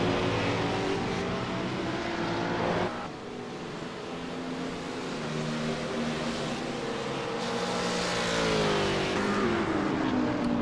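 Race cars at the Spa-Francorchamps 24 Hours, engines droning and rising in pitch as they accelerate and pass, a continuous layered roar from mid-distance with shifting tones.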